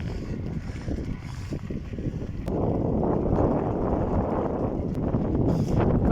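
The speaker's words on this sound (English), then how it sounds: "sun came out, very windy" Wind buffets a microphone while riding a bike on a sunny, very windy day, a continuous close roar that swells louder partway through, with no voices.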